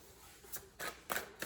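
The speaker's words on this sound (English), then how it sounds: "We'll get a couple more shuffles in here." Tarot cards are shuffled by hand in a quiet room, making several short, crisp riffling bursts in quick succession.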